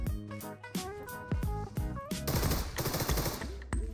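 Gunfire in the mobile shooter game Peacekeeper Elite: sharp single shots and short automatic bursts crack out in an irregular rhythm, close and loud, with no talking.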